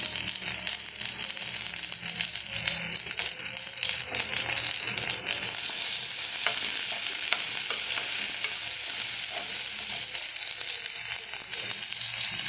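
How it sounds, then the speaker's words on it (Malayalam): Chopped garlic, ginger, green chili and tomato sauté in oil in a pan, giving a steady close sizzle with scraping and stirring rattles throughout, with no talking. "ചട്ടിയിലേക്ക് സ്വല്പം എണ്ണ ഒഴിച്ച് ചട്ടിയിലേക്കിട്ട് വഴറ്റണം"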